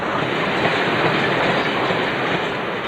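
A Class 40 diesel locomotive hauling a cement train rumbles steadily past with a continuous roar and faint rhythmic clatter of wheels on rails, fairly close and loud throughout.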